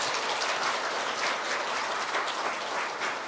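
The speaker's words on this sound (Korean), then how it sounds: "우리 한 박수로 환영을 하겠습니다" A church congregation at a Sunday service claps steadily to welcome a newcomer, a dense, even wash of many hands sustained throughout at a fairly loud level.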